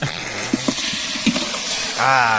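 Chicken pieces go into a hot pan of tomato masala for North Karnataka chicken curry, giving a steady frying hiss with a few soft clunks as they land, and a voice speaks near the end.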